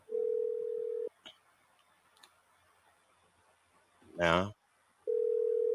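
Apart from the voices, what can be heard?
telephone tone on an incoming phone call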